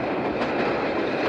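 Continuous dense rumble of a train rolling along the rails, a steady broadband roar heard close without any pauses.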